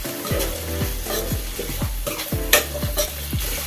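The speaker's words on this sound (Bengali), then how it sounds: "এগুলো আমি হালকা ভেজে নেব।" Vegetables for gravy noodles fry lightly in a pan with a steady sizzle, while a utensil scrapes and stirs in repeated strokes roughly every half second, close and fairly loud, with no talking.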